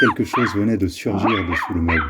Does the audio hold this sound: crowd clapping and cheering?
no